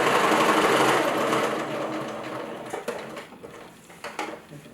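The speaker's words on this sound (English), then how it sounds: "I'm sewing basically a 1/2 inch, a little bit more than a 1/2 inch seam." A sewing machine runs a regular straight-stitch seam about half an inch wide on a fabric yoga bolster, the motor whirring loud and steady at first, then slowing into softer, uneven bursts with small clicks and pauses.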